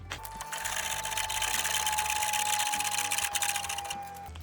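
Downrigger spool unwinding as its cable wire is run out by hand, a steady whirring mechanical drone with a high whine and rhythmic ticks, fairly close and loud.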